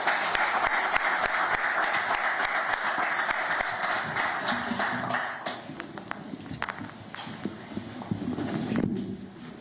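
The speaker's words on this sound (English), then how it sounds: "Claps abound" Applause for WNBA draft picks welcomed by the Washington Mystics on a terrace: a crowd claps steadily and fairly loudly, thinning out toward the end with a few scattered claps.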